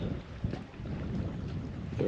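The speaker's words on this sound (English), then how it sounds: "Very windy today." Gusty wind rumbles and buffets the microphone in low bursts at a riverside camping park in South Texas, rising and falling over a couple of seconds with no voices.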